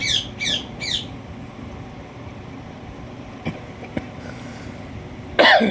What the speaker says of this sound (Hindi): ये खांसी की प्रॉब्लम है।